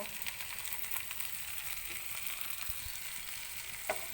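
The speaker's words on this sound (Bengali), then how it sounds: "টমেটোটা দিয়ে এটাকেও আমি ভালো করে এপিট ওপিট করে 1 মিনিটের মতো ভেজে নিব" Onion and tomato sizzle steadily in a pan at a low, even level, with a faint scrape of stirring near the end.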